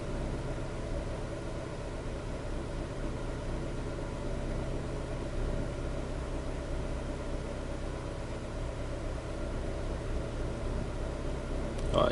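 A car engine warms up at idle, settling below 1000 RPM into a low, steady hum with a faint even pulse, quiet and continuous with no talking.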